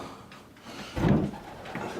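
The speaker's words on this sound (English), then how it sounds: "close this door" A pigeon loft door with deadlock bolts swings shut, giving one dull, close thump in a quiet shed-like space, with a fainter knock shortly after.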